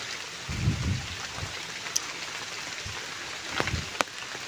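Steady rain falls in a forest, a continuous soft hiss with a few louder drip and splash accents, close and even, with no voices.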